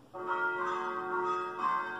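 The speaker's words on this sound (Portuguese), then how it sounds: "Esse é o som do sino badalando." A bell rings out with a clear, sustained metallic tone, struck again near the end so the ringing swells once more.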